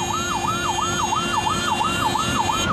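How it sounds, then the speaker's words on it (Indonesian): An ambulance siren wails in a fast, regular rising-and-falling cycle, loud and close over traffic noise, while a private car blocks the vehicle's path. "Viral sebuah video yang memperlihatkan mobil pribadi menghalangi ambulans meski sudah diklakson dan sirine menyala."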